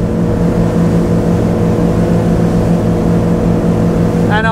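Chris Craft 35GT motorboat running at 29 knots and about 5,200 rpm, its engines giving a loud, steady, close drone with a constant hull rush throughout.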